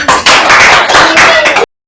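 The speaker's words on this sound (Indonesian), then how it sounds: "kita berikan tepuk tangan" A class of students applauds in an Indonesian classroom at UIN Jakarta, loud, close and dense clapping that stops abruptly.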